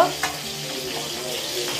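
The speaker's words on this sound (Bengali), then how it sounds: "বন্ধুরা আমার মাছ ভাজা শেষ দিকে, আর এই কটা আছে।" Fish frying in a pan for a home meal, a steady close sizzle with a soft stirring scrape near the start, no talk.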